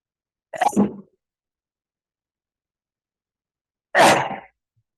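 Two sharp, loud sneezes burst out a few seconds apart during a web presentation, with silence before, between and after them.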